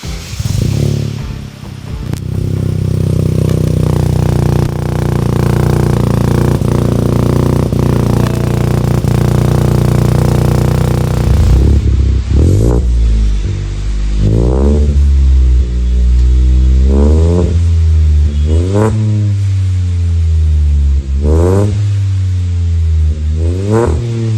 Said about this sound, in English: Boys, time to start the car in base file.